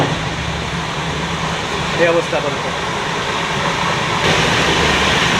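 Inside the Kolkata–Ayodhya express train (13151) running at speed, a steady loud rumble of wheels and carriage with fan-like hiss, while someone talks briefly over it.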